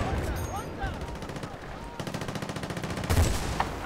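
Rapid bursts of gunfire in Battlefield: Bad Company 2, with a fast automatic rattle in the middle and a louder volley near the end, over steady game background noise.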